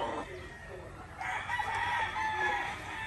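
An Albany brood stag rooster crows on a farm, the drawn-out call rising clearly from about halfway through and holding to the end, moderately close over a steady background hum, with no talking.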